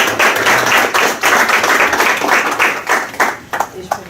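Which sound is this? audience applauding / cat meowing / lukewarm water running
audience applauding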